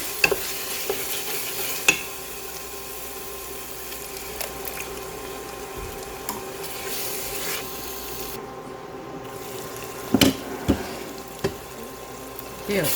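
Tomato paste meat sauce for pasta cooks in a pan with a splash of water, a low simmering sizzle under spoon stirring and scraping, with a few sharp clinks.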